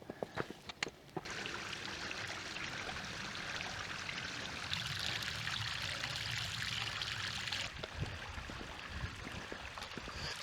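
Glacial meltwater stream flowing in the mountains, a steady rushing and pouring of water heard close by, with a few sharp knocks at the start.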